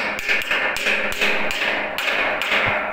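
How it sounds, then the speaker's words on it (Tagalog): A hammer taps a used tubular clipping into a hole as a DIY cover, giving about seven sharp, evenly spaced knocks over a few seconds, close and fairly loud. "Tapos gamit ka ng hammer, so martilyo."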